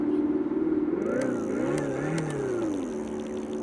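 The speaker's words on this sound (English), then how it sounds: "Now when you rev the bike up, you're gonna have your motorcycle sounds." A simulated motorcycle revving tone from the speaker of a FREESKY Cheetah MT-380 dual-motor electric bike rises and falls continuously, with a slightly electronic, synthesized quality, steady and fairly loud throughout.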